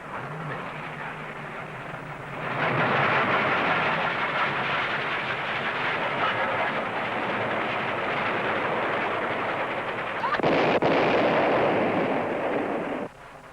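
A train rolls past in a drama film, a loud rumbling roar swelling in after a couple of seconds and holding steady, with a brief sharper burst near the end before it cuts off.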